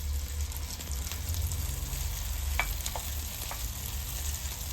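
Bread omelette cooking in butter in a pan over medium heat, a continuous soft sizzle with a few faint clicks, no voices.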